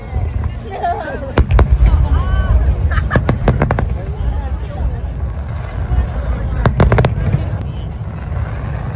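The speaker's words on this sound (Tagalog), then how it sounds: "At nag-start na ang fireworks dito." Fireworks crackle and boom in irregular bursts at a fireworks festival in Japan, some loud and close, amid a steady hubbub of a crowd with scattered voices and whistles.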